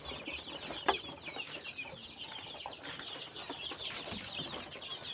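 Young joper chickens, a few of them sick with colds, cluck and chirp in a continuous flock chatter, close and fairly quiet, with one sharper call standing out early.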